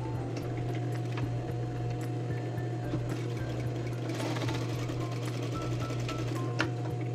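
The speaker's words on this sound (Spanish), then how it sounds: "Así voy a bordear el cuello con esta costura para unir las dos piezas." A sewing machine runs at a steady, even whir while stitching around the collar of a men's shirt, close and continuous with no talking.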